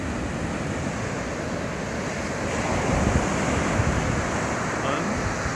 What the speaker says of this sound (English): pretty big waves breaking out there